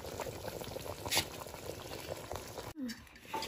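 Duck curry bubbles in a pot with a soft, low simmering burble, fairly quiet and close, briefly interrupted by a short gap and a clunk near the end.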